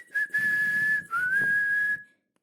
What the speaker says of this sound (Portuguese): Titiritesa, contente, assobiava com aquele recém-estreado nome